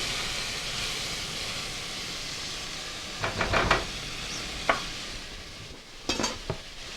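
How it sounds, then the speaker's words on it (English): Onion sautéing in a pot over medium-high heat, the same pot the beef was browned in for a Guinness beef dish: a steady sizzle with bursts of stirring and scraping. "In this pot that we did the meat in, under medium-high heat, and add the onion"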